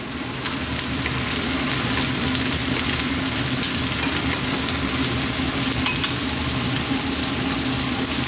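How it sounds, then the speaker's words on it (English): Sliced mushrooms fry in a hot pan for mushroom fried rice, a loud, steady, dense sizzle with crackling that holds throughout, close up and with no talking. "let's now drop in our mushrooms, which I've sliced"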